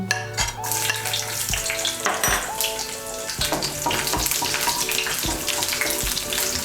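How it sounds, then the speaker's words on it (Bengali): Minced garlic, about five or six cloves, sizzles and crackles steadily in hot oil for a Bengali egg and eggplant bhorta. A spoon scrapes and stirs through the pan, close and continuous, with no talking. "তেলটা গরম হয়ে গিয়েছে, এর মধ্যে আমি দিয়ে দিচ্ছি রসুন কুচি।"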